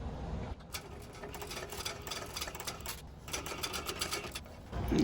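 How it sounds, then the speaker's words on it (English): A sewing machine stitching a bag seam with back stitching, rapid close mechanical ticking in bursts that stop briefly and restart as the stitch direction reverses. "So now stitch across, back stitching at the start and the end of the seam."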